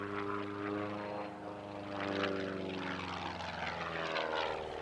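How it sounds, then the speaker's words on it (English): A jet-powered homebuilt kit plane, called a Wacko, flies past at an airshow with a loud, steady engine drone. Strong tonal harmonics run throughout and swell slightly midway. "Here comes Del Collar, in what his website proudly proclaims is the world's only jet-powered wacko."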